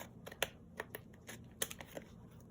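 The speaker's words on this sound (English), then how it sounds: "And then I follow that line with my scissors." Paper being cut with scissors while making tags for journals, heard as a string of short crisp snips and clicks spaced unevenly, close and quiet over a low background hum, with no talking.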